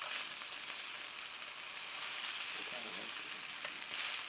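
Seasoned pineapple rice being stirred in a hot pan, a soft continuous sizzle with faint scraping of the spoon, close up and even in level.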